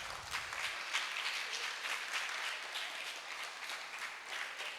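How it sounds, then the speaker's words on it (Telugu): Audience applause for a primary class teacher at a church children's Vacation Bible School final-day program, a dense steady roar of many hands clapping that holds at an even level throughout with no talk over it. "మరీ క్లాస్ టీచర్ మిస్ కాళీ హెప్సీ జయదర్శిని. నానా క్లాప్స్ టీచర్."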